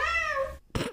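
A cat gives one drawn-out, tonal meow close by, falling slightly in pitch, followed by a short pause and a brief second sound.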